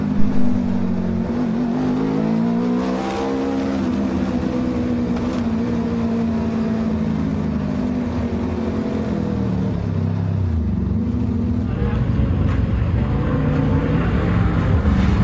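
Race cars leave the Cremona circuit after a G1 Series heat, a continuous close engine drone with rising and falling pitch as they roll off the track, loud throughout and without talk.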